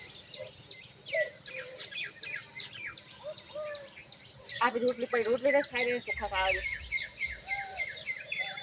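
House sparrows chirp busily nearby while feeding on rice scattered outdoors, quick bright tweets repeating throughout as people talk over them.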